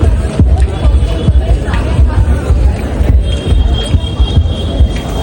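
Dense crowd hubbub at a Mumbai Ganpati pandal at night during the festival darshan, a steady, close wash of many overlapping voices and shuffling with no single speaker standing out.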